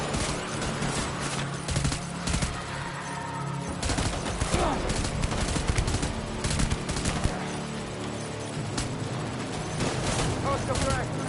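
Gunfire in the Death Stranding game, dense rapid volleys of shots with sharp cracks throughout and voices shouting intermittently among them.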